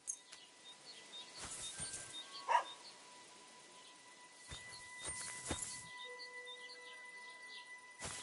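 Dog in Kingdom Come Deliverance 2 barking in a few short, fairly quiet bursts spaced several seconds apart, over an outdoor ambience of faint chirping birds.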